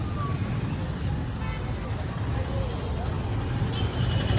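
Busy road traffic in Nagar, with a steady wash of engine noise and passing cars, buses and trucks, a horn toot breaking through near the end, heard continuously at moderate distance.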